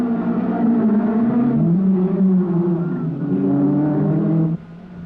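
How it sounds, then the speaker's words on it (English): A Renault 5 Turbo rally car drives a stage of the 1983 Rally of the Lakes, its engine loud and close with shifting revs throughout, dropping away abruptly near the end. "he has Pat Dillon behind him in the Renault 5 Turbo."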